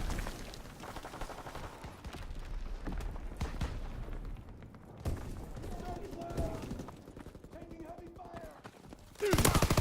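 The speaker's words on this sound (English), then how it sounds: "You can hear the grenades go off." Gunfire and dull grenade blasts from Call of Duty: WWII, with bursts of shots and a loud boom at the end, over a dense noisy mix.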